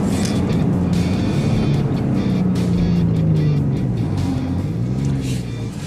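A 2015 Lincoln Navigator pulls hard from a standstill, its engine note climbing steadily in pitch and staying loud and close throughout the run, with only brief hints of voice beneath.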